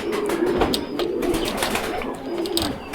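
Pigeon, a bird being treated for canker (trichomoniasis) with mouth swelling, cooing repeatedly in a steady low murmur over continuous background noise, close and fairly loud.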